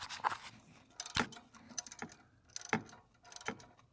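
A ratchet works on 10 mm bolts on a C5 Corvette torque tube, giving close, irregular bursts of clicking and metallic clatter separated by short pauses.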